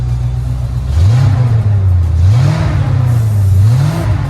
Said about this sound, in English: Dude, you can hear the air intake.